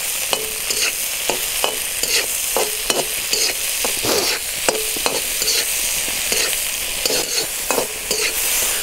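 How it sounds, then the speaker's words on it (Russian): Carrots sizzle and fry steadily in a pan over a charcoal grill for buckwheat, with repeated sharp scrapes and taps of a stirring utensil at a quick, regular pace, close by and with no talking. "Морковка постепенно тоже обжаривается."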